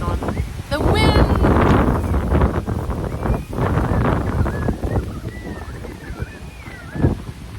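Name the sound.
wind blowing into the microphone outdoors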